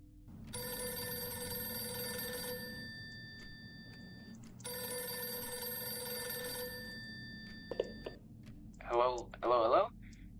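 Old-style telephone bell rings in two long bursts in a Minecraft recreation of Five Nights at Freddy's, fairly loud over a low hum, followed by brief clicks and a short stretch of speech.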